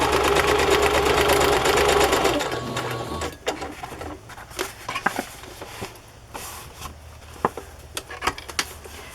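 A sewing machine zigzag-stitches along an unfinished fabric edge, whirring fast and loud for a couple of seconds, then stopping, followed by scattered quieter clicks and handling taps.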